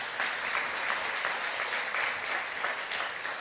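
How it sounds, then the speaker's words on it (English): A computer science education conference audience applauds the sponsors of an event, producing a full, sustained wash of clapping from many hands at a steady level across the room. "give them a round of applause for such a great event"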